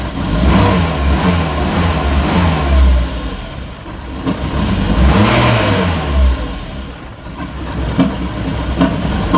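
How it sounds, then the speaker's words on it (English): A car engine revs with the gas pedal held, the sound rising and falling in surges over a rough running note, close and loud, with no talking. "This time I'm gonna just hold the gas pedal a little bit."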